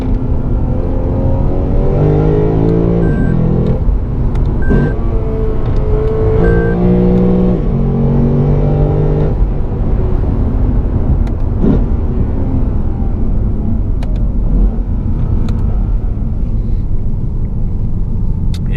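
A 2018 Lexus RC F with a 477 hp engine, driven hard through curves in Sport Plus mode, roars loud and close through repeated rising revs broken by sharp downshift blips, with no talking over it.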